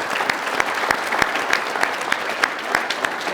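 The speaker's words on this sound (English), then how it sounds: "let's give Thurman one more big round of applause here" A crowd of students claps in a steady round of applause for former football player Thomas Thurman, a dense patter of hands with sharp individual claps standing out, close and sustained throughout.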